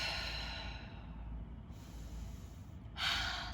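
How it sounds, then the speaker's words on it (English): Deep breathing during a stretching session: a long, close, airy exhale with a slow release, followed near the end by a sharper, brighter breath sound. "Let's take 2 more deep breaths."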